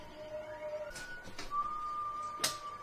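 Thin whistled tones, a sustained pitch then a higher held note, quiet and sparse with a couple of soft clicks.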